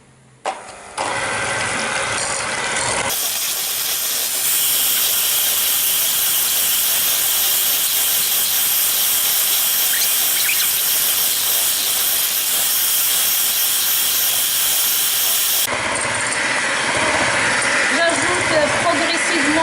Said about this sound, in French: Je vais battre ce mélange jusqu'à ce qu'il double de volume